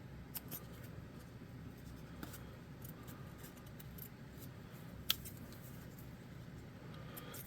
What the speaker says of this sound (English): I'm going to draw a little circle and cut it out and glue it inside towards the top.